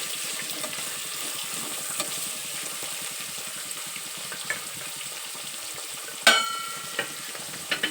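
Tomato fries in oil in a pan while being stirred, a soft steady sizzle with faint scraping and a sharper clink of the utensil late on, close and without talk.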